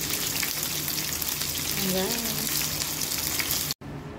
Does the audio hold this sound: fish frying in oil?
yes